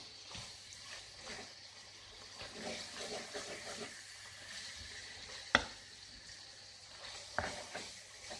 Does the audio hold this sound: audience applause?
no